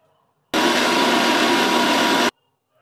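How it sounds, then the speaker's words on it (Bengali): A mixer grinder whirs loudly while blending vegetables into a paste, a single steady burst of nearly two seconds that starts and stops abruptly, with near silence on either side. "সবজিটাকে আমরা মিক্সিতে পেস্ট করছি।"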